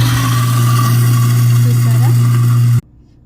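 A kitchen sink food waste disposer motor runs with a loud, steady electric hum and whir, then cuts off abruptly near the end, leaving faint room noise.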